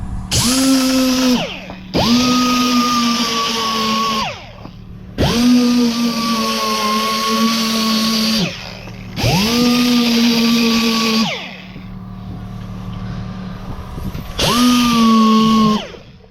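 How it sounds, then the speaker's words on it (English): A DA sander fitted with 400-grit paper smooths scratched edges during a car smart repair. It gives loud, close whirring bursts that start and stop about five times, each with a steady whine. "This is 400 on a DA. Just smooth these edges out, these scratches."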